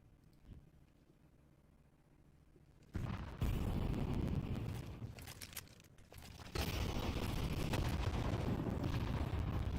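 A grenade detonates during a Counter-Strike match, a sudden loud broadband burst followed by a sustained roaring wash, then a second surge of dense noise that holds near full volume to the end.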